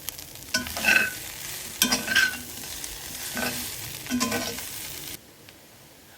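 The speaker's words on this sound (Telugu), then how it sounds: "చికెన్ కొబ్బరి 2 ఈక్వల్గా ఫ్రై అవుతుంది" Chicken and coconut fry together in a pan while being stirred, crisp sizzling swells rising in several scraping bursts of stirring, then the sound drops off abruptly near the end.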